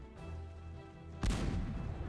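Gunfire and artillery in the strategy video game Cossacks 2, a sudden loud burst of booming shots erupting midway through a quieter low rumbling battle din and continuing as a dense crackling barrage.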